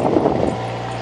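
A Jeep Wrangler YJ cranks in 28-degree cold, and a steady broadband engine rumble gives way to a low, even idle hum about halfway through, close and fairly loud.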